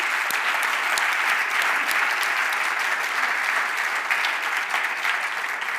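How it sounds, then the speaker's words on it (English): A startup pitch night audience claps loudly and continuously, a dense steady wash of applause that fades slightly near the end. "So big applause to all of them"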